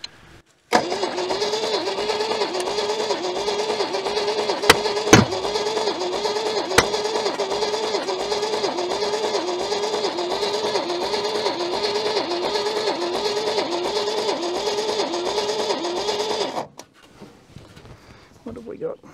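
An old junkyard Holden car left sitting for decades cranks steadily on its starter for about sixteen seconds, with a rhythmic churning and a few sharp pops, then stops abruptly.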